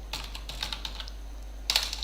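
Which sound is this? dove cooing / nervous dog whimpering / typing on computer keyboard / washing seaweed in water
typing on computer keyboard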